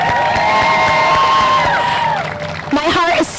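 Crowd cheering and clapping at a community pride flag raising in North Haven, loud and sustained with whoops and shouts, fading slightly before a voice breaks in at the end.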